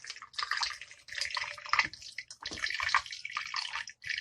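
Aloe vera hair growth oil is poured through a funnel into a bottle, giving close, soft splashing and trickling in uneven bursts with brief gaps between pours, and no speech.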